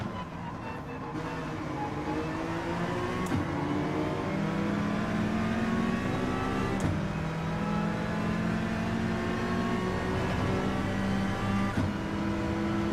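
An Audi TT races in Gran Turismo 7, its engine droning steadily and loudly with rising pitch sweeps as it climbs through the gears, broken by brief shift cuts at regular intervals.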